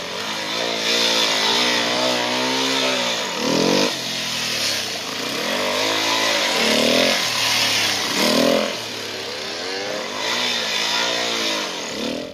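A motorcycle engine revs loud and close, rising and falling in about four repeated surges as the clutch is worked, with no talking over it.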